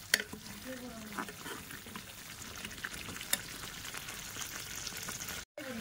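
Aloo paratha fries in ghee in a home kitchen, giving a steady close sizzle with light scraping and stirring taps throughout, plus a brief dropout near the end.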